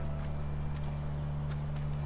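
Horse hooves clip-clop in The Last of Us, a steady run of hoof strikes over a loud low hum and engine-like drone.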